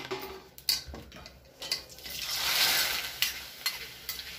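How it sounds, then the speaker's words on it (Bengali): Papad frying in a pan with a rising crackling sizzle that swells midway, punctuated by scattered sharp taps and scrapes of a utensil against the pan. "এই যে পাঁপড় ভাজা হচ্ছে"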